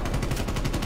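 Rapid pistol shots in a video game match ring out in a fast, even string of roughly ten close, loud cracks, with no talk over them.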